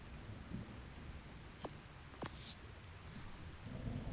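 Rain and thunder in ARK: The Island Ascended, quiet steady rainfall with a few brief sharp cracks and a distant rumble swelling near the end, no voices.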